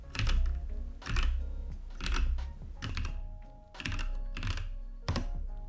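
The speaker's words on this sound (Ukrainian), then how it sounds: "Тактильний свіч позбавився кліку, і тепер робота лише трохи шумніша за лінійний." Someone types on a mechanical keyboard with tactile switches that no longer click. Keystrokes land in steady bursts of clacks about once a second, close and moderately loud, with no voices.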